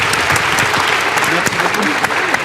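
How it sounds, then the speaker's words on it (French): An audience at a Canadian humanitarian conference gives a conference panel steady, dense applause. The clapping is loud and continuous for the whole stretch, with no break. "je voudrais qu'on les applaudissions tous de façon nourrie"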